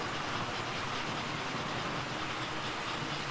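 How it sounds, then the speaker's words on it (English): A model train locomotive running past on a home layout, heard as a steady, even rumble of motor and wheels on track that stays constant throughout, with no talking. "The locomotive going by right now is running because of the armature that's in that came from that Erie locomotive sitting there"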